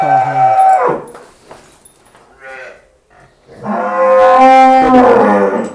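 A water buffalo gives two loud, drawn-out moos close by, separated by a short quieter pause with faint murmuring.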